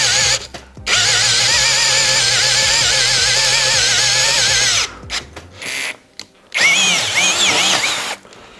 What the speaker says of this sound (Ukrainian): Давайте ще спробуємо свердління. Ось цим ось 22 м сверлом.